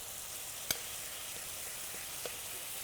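Teriyaki marinade, just used for salmon, sizzling in a frying pan: a steady hiss throughout with a couple of sharp clicks or pops, close and moderately quiet, with no talking.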